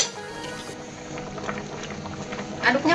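A Betawi-style snapper head curry (gulai kepala kakap) bubbles in a pan while being gently stirred, giving a close, continuous simmering burble with soft liquid sloshes and a brief spoon scrape near the end.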